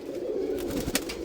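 Caged pigeons cooing indoors around bath time, a low steady murmuring coo with a few small flutters and knocks, close and moderately loud without talk.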